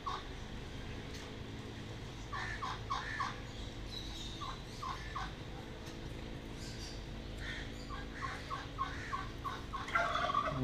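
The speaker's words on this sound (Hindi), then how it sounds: "ये सामने टर्की है, आपको आवाज़ आ रही होगी टर्की की" A turkey in a country club zoo gobbles several times, giving rattling calls in bursts at moderate distance over a steady ambient hum.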